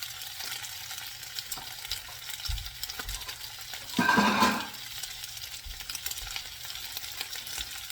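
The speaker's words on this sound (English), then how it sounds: "don't get too anxious to stir it. Let the bottom of the protein brown a little." Beef for teriyaki fried rice browns in a pan, giving a steady, close sizzle that holds low and even for the whole stretch, with a brief louder burst of crackling partway through.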